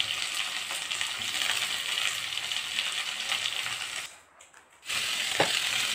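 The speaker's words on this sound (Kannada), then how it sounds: "ಉಪ್ಪು ಹಾಕಿ ಫ್ರೈ ಮಾಡ್ಕೊತಾ ಇದ್ದೀನಿ." Onions, chana dal, green chilies, curry leaves and salt sizzle steadily in oil in a home kitchen for upma, a continuous close crackle that drops away briefly near the end before resuming.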